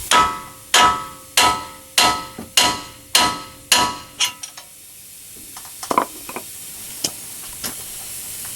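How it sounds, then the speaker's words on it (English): Eight sharp metallic hammer blows ring out in a steady rhythm against a Chevy Silverado tie rod end, close and loud, followed by quieter clinks and rattles as the part comes loose. "Now we're just going to knock it with a hammer and release that tie rod."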